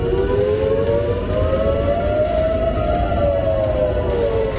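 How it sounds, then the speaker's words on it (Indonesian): An air raid warning siren sounding in Israel, including around the main port of Haifa, a steady loud wail slowly rising and falling in pitch, heard outdoors over a low background rumble. "Sirine peringatan berbunyi di berbagai wilayah termasuk di kawasan pelabuhan utama di Haifa."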